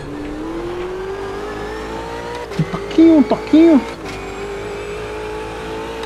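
Ultima GTR race car engine at Bathurst in a racing video game, a steady drone running throughout with a brief rise in pitch partway through, while someone talks over it in short bursts.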